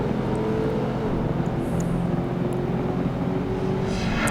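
Shelby Cobra race car engines roaring together during a Roadster Series race in the video game PGR2, a steady loud drone with shifting pitch throughout.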